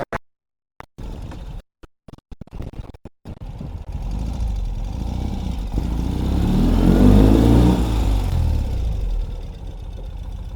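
A 2021 Ural Gear Up Heritage Hunter sidecar motorcycle starts with several brief knocks and bursts, then its engine settles into a continuous loud rumble that swells and rises in pitch as it rides past and away.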